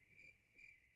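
Crickets chirping at night: two short, faint, high trills spaced about half a second apart, then an abrupt loud thump or handling noise at the very end.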